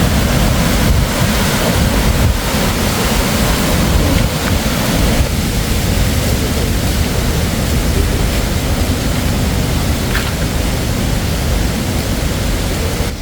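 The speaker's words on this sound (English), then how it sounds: "Here's like the river. It cannot call the waterfall, but the sound is very satisfying." A swollen river in Kanchanaburi during the rainy season rushes as a loud, constant, dense wash of flowing water, close to the microphone and unbroken throughout, with no voices.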